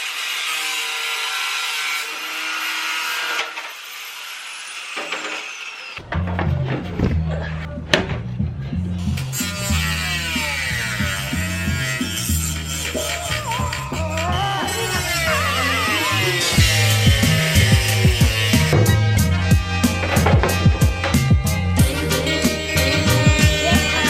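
Steady rasping saw strokes cut through a fiberglass body kit part for a 326-style kit on a Nissan 240SX. The cutting is heard mostly in the first few seconds, then loud music takes over and masks it.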